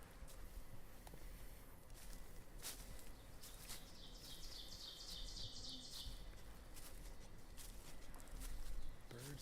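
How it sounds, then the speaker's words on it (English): Birds sing and chirp on a summer forest trail hike in Massachusetts, with scattered tweets through the air. Faint, distant calls sit over footsteps and rustling outdoor ambience. "Birds are loud and happy today"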